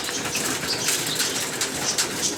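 A pigeon flaps its wings while taking off from a loft, a rapid, papery fluttering of wingbeats close by that repeats in quick bursts over a steady outdoor background.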